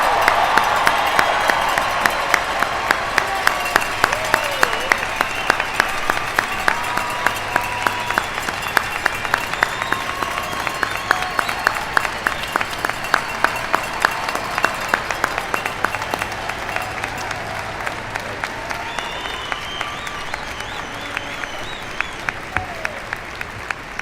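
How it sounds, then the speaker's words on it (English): Graduates and guests applauding at a university spring commencement ceremony, a large crowd clapping steadily and continuously for over twenty seconds, slowly thinning toward the end. "Could you please join me in a round of applause"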